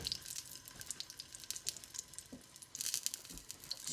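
Sausage links and an omelette cook in a pan, giving a faint, steady sizzle with a few soft clinks. One louder burst comes near the end, and no one speaks.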